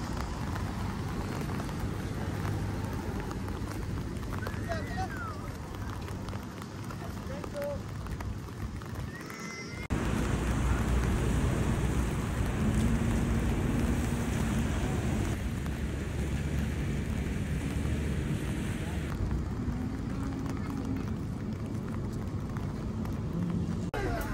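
Light drizzle falls at Lake Como on a foggy day, a steady faint hiss of fine rain throughout that grows slightly louder partway through, with a voice speaking intermittently.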